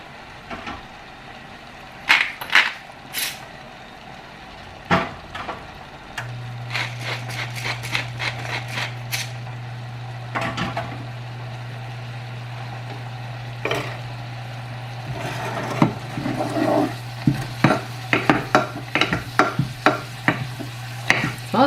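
Spinach cooking in oil with salt and pepper in a home kitchen pan, a steady low sizzle running under repeated clattering stirs and utensil knocks that grow busier toward the end.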